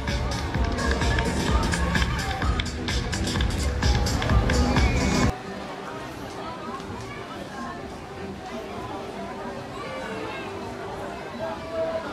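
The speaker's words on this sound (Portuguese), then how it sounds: "Uma salva de palmas para ela." An audience at the Alpiagra 2016 fair applauds for a woman, a dense, loud burst of clapping lasting about five seconds before cutting abruptly to quieter background chatter and crowd murmur.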